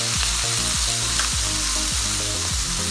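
Blanched sweet corn hits a pan of sautéed vegetables and fries with a loud, continuous sizzle. Repeated stirring scrapes are heard close up throughout, and no one speaks.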